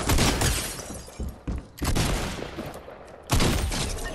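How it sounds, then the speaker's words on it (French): Gunshots and an arriving bullet in a battle-royale arena video game, loud sharp cracking bursts in three separate clusters with brief quieter gaps between them, no voices. "Il y a une balle qui vient d'arriver de là-bas."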